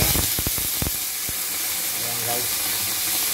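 Aromatics sizzle and fry in a hot pan for a sautéed cabbage and bottle gourd dish with sardines, a few sharp clatters of utensils at the start and then a steady close hiss, with brief speech over it.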